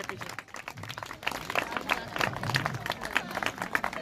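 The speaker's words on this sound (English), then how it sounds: "Please clap for them. please keep clapping." A crowd claps continuously at a school sports day kabaddi final, a dense patter of applause with a voice carrying over it through a loudspeaker.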